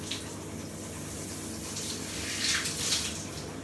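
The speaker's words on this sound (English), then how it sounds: "Always go quite light with the shower head because you don't want to put too much pressure on the system." A shower head sprays a light, steady stream of water, a continuous close hiss and patter running throughout with slight swells near the end.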